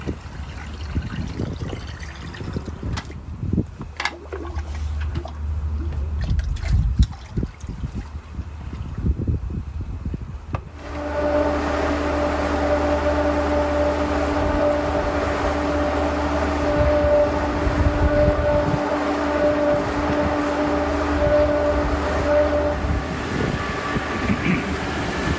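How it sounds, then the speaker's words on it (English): A pool pump powered on after suction valve repairs hums loudly and steadily with a constant whine, water churning as it primes, after a stretch of quieter clattering handling noises. "flip the power on. And I probably am going to have to prime the pump."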